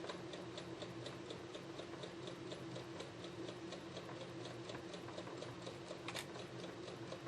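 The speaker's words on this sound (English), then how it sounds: "I'm just going to sew it, back tack, and give myself a 1/4 inch seam all the way down" A home sewing machine stitches a quarter-inch quilt seam on a Halloween pumpkins-and-potions quilt block, its fast, steady ticking stitch rhythm running continuously, with a brief back tack near the end and no talking.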